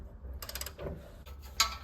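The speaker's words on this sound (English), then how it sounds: "To take off the rear caliper, 22 millimeter on this side." A wrench ratchets on a 22 mm bolt of a motorcycle's rear brake caliper, making a quick series of about five light clicks. A metallic creak and a sharp tick follow, all faint and close against quiet background noise.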